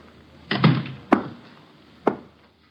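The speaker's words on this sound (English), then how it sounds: "Shut the door, Chuck." A door is shut in a radio drama sound effect, heard as a few separate wooden thumps and knocks spread over a couple of seconds, close and moderately loud with no talk.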